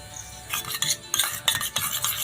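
Sour yogurt being whisked in a bowl for doi kachuri: quick, uneven scraping and tapping strokes of a utensil against the bowl, close and fairly crisp, with no voices.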